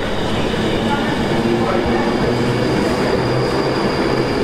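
A passing train heard close by, a loud continuous rumble of wheels on rails with faint squeals and a steady roar that does not fade. A voice is heard faintly now and then.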